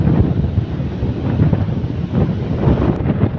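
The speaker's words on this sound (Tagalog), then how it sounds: "Masyadong mahangin po kaya." Strong wind at a fishing spot in Matoog-toog, Mercedes, roars and buffets the microphone in a steady, loud rumble that lasts throughout, with no pauses.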